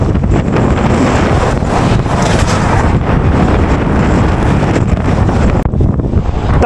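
Strong wind on an open road through a remote area, buffeting the microphone with a loud, continuous roaring rush that gusts unevenly and drops briefly near the end.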